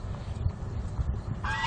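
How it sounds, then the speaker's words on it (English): A small flock of young domestic ducks, two drakes and a hen newly added to the group, gives short honking quacks close by over a rough, noisy background, with a louder call at the end. "3 young ducks down here"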